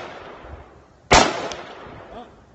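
A .357 Magnum revolver fires a single loud, sharp shot into a watermelon outdoors, a sudden crack followed by a brief decaying tail over light background noise.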